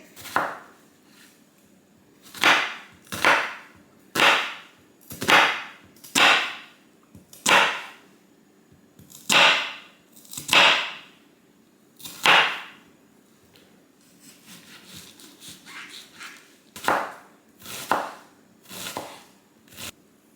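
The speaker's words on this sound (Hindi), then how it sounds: "अब हम लेंगे एक ऑनियन को भी हमने बहुत ही पतला पतला काटना है" A knife slicing an onion thinly on a cutting board, a series of crisp, close chops in uneven rhythm, about fifteen strokes with a short pause midway and no talking.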